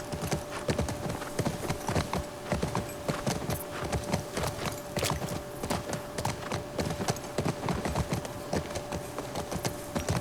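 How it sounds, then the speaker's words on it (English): Rapid, rhythmic hoofbeats of a galloping horse in The Last of Us Part II clatter continuously, loud and close, with a faint steady tone underneath. "Gallop horse."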